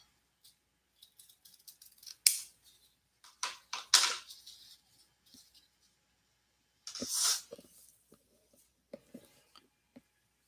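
Scissors snip twist ties for a candy apple bow in a series of sharp, close cuts and clicks spread unevenly across the quiet recording, with small handling noises between them.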